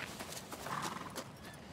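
A horse gallops in the video game Shadow of the Colossus, its hooves clip-clopping in quick, faint beats across a short stretch with no one speaking.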